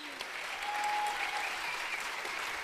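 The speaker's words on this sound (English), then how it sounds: "Give them a round of applause to these guys" A Comic-Con panel audience applauds, a steady wash of many hands clapping at a moderate distance, with a faint whistle cutting through the crowd noise.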